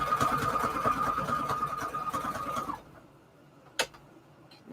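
A sewing machine sews a scalloped stitch on fabric with a steady, fast mechanical whir and ticking. It runs loud and close for nearly three seconds, then stops, leaving a quiet hum and one sharp click.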